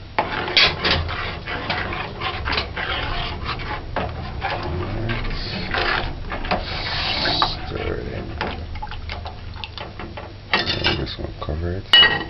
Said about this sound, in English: add the milk and the sugar mix. And stir it in.